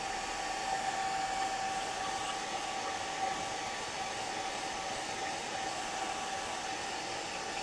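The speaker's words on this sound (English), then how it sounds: "I'm gonna cool dry this." A hair dryer on its cool setting dries a Gelli plate print, blowing a steady, close, unbroken whine with a faint high tone throughout.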